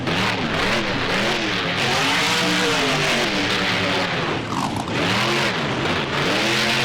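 A monster truck engine in the BeamNG driving game roars and revs continuously, loud and close, with rising and falling pitch as the truck accelerates at a fairground freestyle course.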